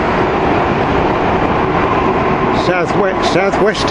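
A Southeastern train running non-stop through Denmark Hill station, heard from a footbridge as a loud, steady rumbling roar with a voice briefly speaking over the passing noise near the end.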